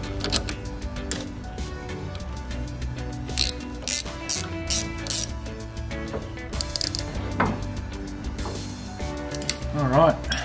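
Metal clicks and ratcheting from two 14 mm spanners tightening nuts onto driveshaft bolts at the differential of an R33 Skyline, irregular close taps and ratchet runs over steady background noise.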